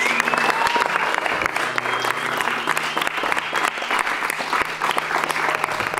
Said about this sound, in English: So we need a big round of applause for the stage crew that built it and everybody that has spent so much time in this beautiful set.